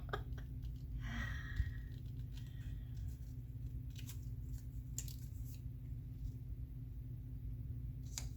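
Scissors snipping through a magazine picture for a small paper collage, a few soft, close cuts and paper rustles over a steady low room hum.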